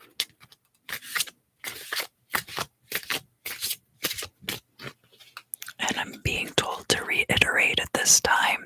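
Flower magic oracle cards are shuffled close and loud in a dense papery flurry after a stretch of soft whispering.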